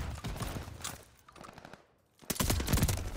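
An MP40 submachine gun fires in a video game, with a rapid burst, a short pause, then a louder sustained burst of automatic fire, close and sharp.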